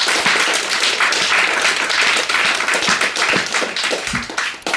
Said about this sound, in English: Can we get another round of applause for the readers?